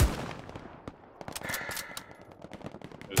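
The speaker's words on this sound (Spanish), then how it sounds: "Estoy oyendo disparos" Bursts of gunfire in the World War II shooter game Hell Let Loose, sharp cracks and rapid machine-gun rattles spread through the clip, some distant and some closer, with no talking.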